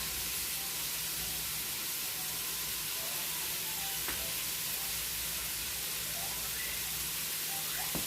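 Pork sizzling and frying in a pan for green enchiladas, a steady hissing crackle with faint stirring scrapes, continuous and close throughout.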